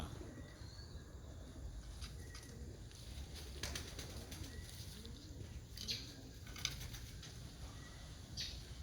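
Pigeons fly around their loft before rain on a quiet day, with faint wing flaps and soft coos over a low outdoor hum, distant and quiet.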